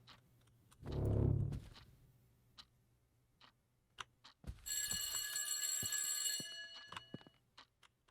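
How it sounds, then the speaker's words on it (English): In the Ghost Exile video game, a shrill electric bell rings like an alarm clock or factory break bell for a couple of seconds, faint and mid-distance, surrounded by soft ticks, a low thump and scattered quiet clicks. "That sounds like a very interesting alarm clock. It sounds like a break time bell at a factory or something."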